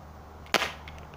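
An Umarex XCP air pistol fires a single pellet, a sharp, close crack that dies away quickly against a quiet room.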